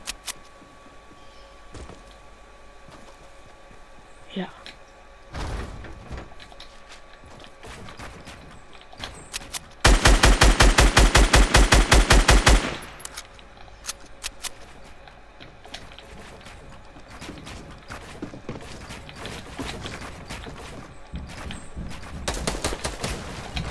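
Gunfire in the video game Fortnite: a loud, rapid automatic burst lasting a few seconds mid-clip, surrounded by scattered single shots and mechanical clicks.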